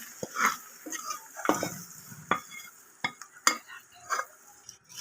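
Spoon scraping and clinking around a pot as hot tadka is stirred into cooked saag, a series of irregular close knocks and scrapes with faint sizzling beneath, no voices.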